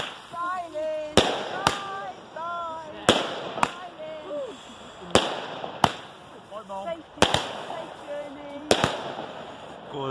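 Fireworks bursting outdoors, carrying cremated ashes, as sharp cracks and bangs at irregular intervals, about ten loud reports over ten seconds, with people talking and calling in between.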